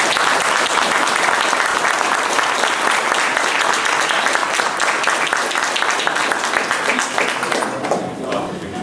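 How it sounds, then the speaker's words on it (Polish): Loud, dense applause fills the hall at a regional PSL election convention, sustained clapping from a large crowd that tapers off slightly toward the end. "Brawa dla mojej drużyny."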